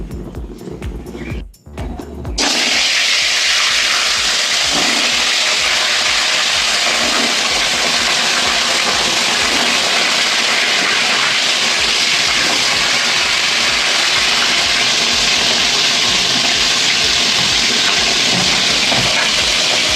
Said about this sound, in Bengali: মাছগুলো ছেড়ে দিলাম মাছগুলো ভাজি